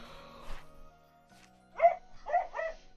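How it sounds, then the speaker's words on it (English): Following a brief indistinct noise and a pause, a pet dog lets out three sharp barks close by, the last two in quick succession. "Bark, bark, bark, bark, bark. Yeah,"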